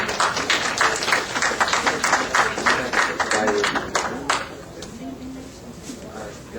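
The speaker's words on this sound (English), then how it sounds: "give a round of applause for Brother Wallace" An audience applauds to welcome Brother Wallace, the keynote speaker at a W. Deen Mohammed II address, with loud, close clapping mixed with a few voices that thins out after about four seconds into quieter room noise.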